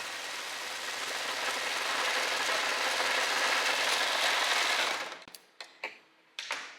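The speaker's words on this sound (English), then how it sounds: "I'm gonna overlock the end of our sleeves" An overlocker serges across the end of a sleeve with a steady, fast mechanical whir for about five seconds, then stops, leaving a few soft clicks and fabric handling noises.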